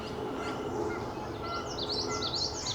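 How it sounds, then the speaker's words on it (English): A common yellowthroat sings in a spring woodlot during a birding festival, a faint, distant series of high rising warbled notes in the latter half over a quiet hiss of ambient woodland noise. "You can hear common yellowthroat"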